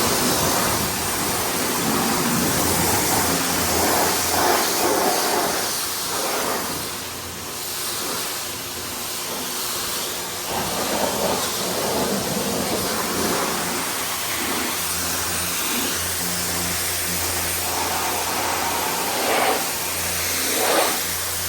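A Canpump Electrojet CR3000 electric pressure washer blasts water onto a car, a loud steady hissing spray with slight surges as the nozzle moves, running without a break.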